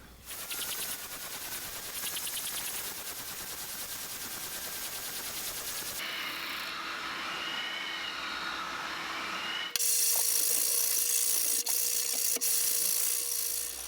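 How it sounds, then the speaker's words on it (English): An oscillating spindle sander, a vertical drum-style sander, runs steadily while sanding a wooden guitar part for a cigar box guitar build, giving a loud continuous whir and grinding hiss that shifts in tone as the wood is pressed against the spindle. "I'm just going to run this through the spindle sander"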